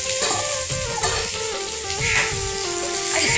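Cumin with potato and cauliflower cooking in a pan over a low flame, giving a continuous moderate sizzle with faint stirring scrapes throughout.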